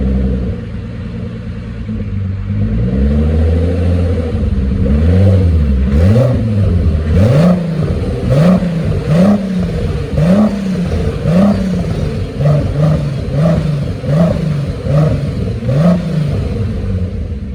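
A VR6 turbo engine in an MR2 Roadster idles, then revs repeatedly in quick rhythmic bursts, a deep loud rumble rising and falling about once per second.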